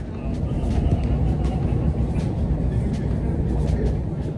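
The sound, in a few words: metro train in Russian subway station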